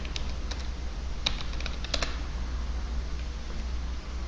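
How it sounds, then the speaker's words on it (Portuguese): Keys clatter on a computer keyboard as a Linux disk-quota command is typed and entered, with a scatter of sharp, close clicks in short bursts over a low steady hum. "digita addQuota-T. Você pode então simplesmente apertar Enter."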